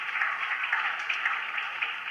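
A cricket crowd applauds a big six by Josh Cobb in a Pakistan vs Leicestershire match, giving steady, moderately distant clapping that holds evenly for a couple of seconds without pause.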